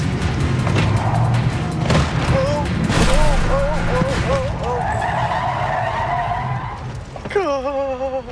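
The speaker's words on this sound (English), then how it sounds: "Tyler slammed on the brakes in mid-swerve while he was speeding" A speeding car's tires screech and squeal as the driver brakes hard mid-swerve, with loud rising and falling skid tones over engine rumble and excited voices.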